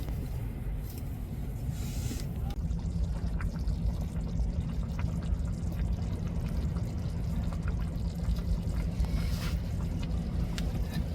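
Black anchovy fish aviyal boils uncovered in a pot, giving a continuous loud bubbling, sputtering simmer that holds steady from start to finish with no talking.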